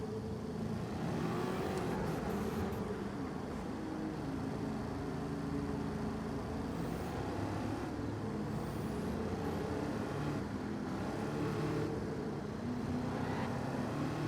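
A car drives along the Tokyo Expressway at night in Gran Turismo, with a steady engine drone and road noise running unbroken throughout, joined by a few fainter passing swells from other traffic.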